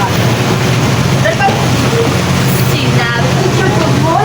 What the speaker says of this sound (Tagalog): So guys, paalis na yung sinasakyan naming barko.